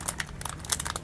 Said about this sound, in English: Sorry for the crinkly noise,